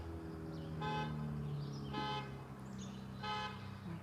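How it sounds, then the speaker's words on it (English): A car horn or alarm outside sounds in three separate honking bursts of about half a second each, at a moderate distance, over steady background hum. "Someone's car alarm."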